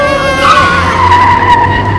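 A Playmobil toy car with failed brakes skids in a loud, sustained tire squeal with a wavering high whine over a low rumble.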